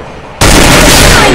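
Gunfire in the mobile battle royale game Free Fire: a sudden loud, sustained burst of rapid shots that starts abruptly and fills the rest of the short moment.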